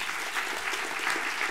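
An audience at a book awards gala applauds, a steady dense patter of many hands clapping, moderately loud and continuous for the short stretch.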